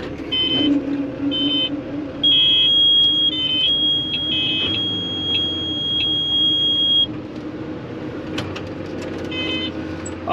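A high electronic beep from a Kinze planter sounds in short pulses, then holds as a long continuous tone, over a low rumbling background.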